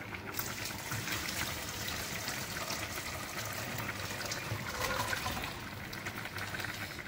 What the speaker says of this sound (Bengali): চলো ঝোলটা ঢেলে নেওয়া যাক।